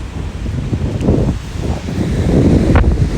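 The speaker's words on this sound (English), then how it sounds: "Ooh, super windy out here." Strong wind buffets the microphone in loud, rumbling gusts, with some rustling underneath.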